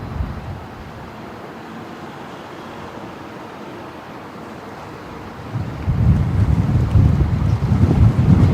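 Strong gusty wind at Brisbane Airport, a continuous roaring rush buffeting the microphone, building into heavier low-pitched gusts in the last few seconds.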